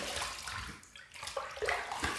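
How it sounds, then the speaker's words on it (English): Running water rinses a surface in a short burst of steady hiss and splash that dips briefly in the middle, then picks back up with small spattering bits. "Let's rinse."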